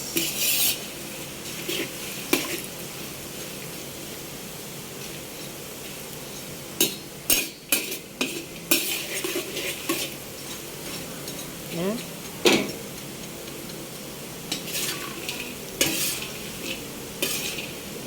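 French fries frying in a pan, soft steady sizzle under scattered clinks and scrapes of a utensil stirring against the pan, with occasional voice in the background.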